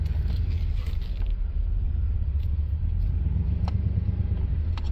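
A homemade tow pig vehicle with badly misaligned front tires rolls along at idle, its engine giving a steady, close, low rumble with no talking over it.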